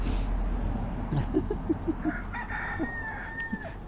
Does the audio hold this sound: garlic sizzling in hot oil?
no